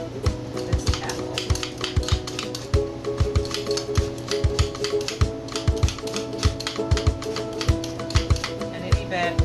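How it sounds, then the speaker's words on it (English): Hand-cranked apple corer peeler turning an apple, a rapid stream of sharp clicks and ticks over a mechanical whir, close and fairly loud. "So now I take this core or peeler and I'm going to peel"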